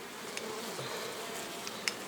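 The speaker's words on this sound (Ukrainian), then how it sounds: "Працюють, працюють, працюють бджолки." Honeybees buzz at an opened beehive, a soft, dense, continuous hum with a few faint clicks and bumps over it.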